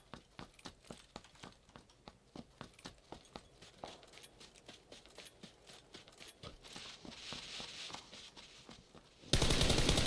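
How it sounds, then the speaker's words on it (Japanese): Rapid, evenly paced footsteps in the battle-royale shooter PUBG tap out a steady crunching rhythm, joined midway by a rising hiss and ending in a loud burst of noise. "何今の足音"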